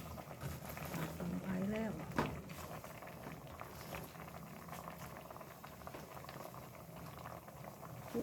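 Northern Thai pumpkin shoot curry with fermented fish boils steadily in a pot, a continuous close bubbling and popping simmer with a brief clink near the start.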